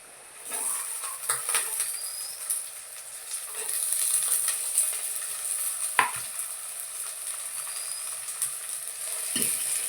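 Shallots and garlic fry in a pan with a soft sizzle that swells and fades, broken by a few sharp scrapes or taps of a utensil, heard up close at a modest level.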